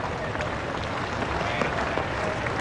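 Adelaide crowd at a Test cricket match applauding a batsman getting off the mark, a steady wash of clapping throughout with a commentator's voice faintly over it.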